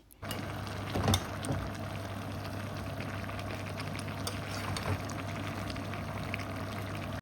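A pot of cauliflower, potato, tomato and egg curry in thick gravy simmers with a low, continuous bubbling hiss and a steady background hum, with no voices.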